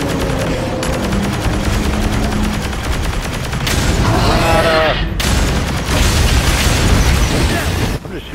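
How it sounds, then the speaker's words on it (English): A weapon fires steadily at an enemy in the co-op shooter Lost Planet 2, a loud, dense stream of rapid shots mixed with bursts and booms. Voices come in briefly over the fire. "I'm just shooting his face in."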